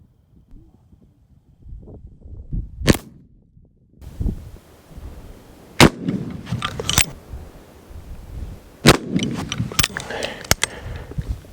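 Burnside carbine fired from a standing position at 10 yards outdoors: three sharp, loud, isolated shots several seconds apart, each ringing out over wind noise and faint movement.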